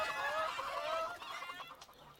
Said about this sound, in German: Sie wollten doch frische Hühner.